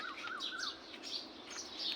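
Small birds chirp and call on a rooftop garden, with quick, high tweets repeating throughout a short, quiet stretch and no one speaking.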